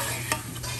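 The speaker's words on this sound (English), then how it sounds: "look at the garlic's all nice and toasty" Garlic chunks toasting in a pan for Spanish rice, a soft steady sizzle with a brief stirring scrape partway through, close and alone.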